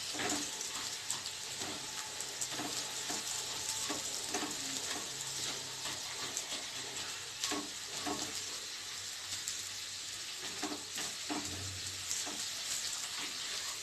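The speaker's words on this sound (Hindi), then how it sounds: "हमारी प्याज जो थी वो भुनने लगी है, गोल्डन ब्राउन होने लगी है वो" Onions fry and sizzle in a pan for a potato and egg curry, a steady crackling hiss with occasional stirring scrapes and clinks throughout.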